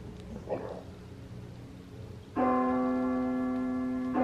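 A church bell rings out loud and steady, starting abruptly after a few seconds of quiet room noise and sustaining its rich tone to the end, with no talk over it.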